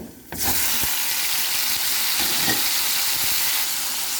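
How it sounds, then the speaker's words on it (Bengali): Tomato pieces dropped into hot oil with golden-brown garlic burst into a loud hissing sizzle that holds steady and close, with a few faint clinks, and no talking. "রসুনটা গোল্ডেন ব্রাউন কালার হয়ে আসছে এবার আমি তাতে দিয়ে দিচ্ছি আমার টমেটোর টুকরাগুলো"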